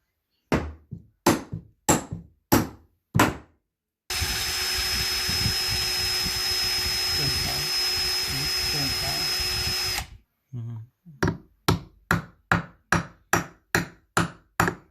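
Rapid series of sharp knocks, then a power drill whines steadily into wood for about six seconds while framing a barn door opening, followed by another quick run of hammer-like taps.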